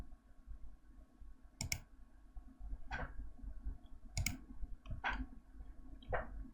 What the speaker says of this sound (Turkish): Kayıt ol tuşuna basıyorum.